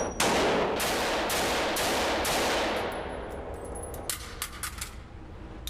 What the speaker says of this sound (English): some of the facilities even have a private shooting range